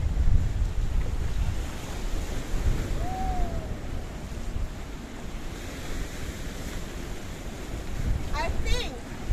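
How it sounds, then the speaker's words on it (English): Waves of the Mediterranean Sea at Kato Paphos, Cyprus, wash steadily under gusting wind that buffets the microphone, a continuous broad roar with a brief whistle-like note partway through. "That's the blue Mediterranean Sea."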